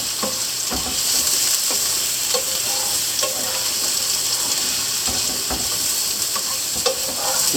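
Cut squash stirred into hot olive oil and garlic in a pan, a steady close sizzle broken by repeated scraping clicks of the spoon, with no talking.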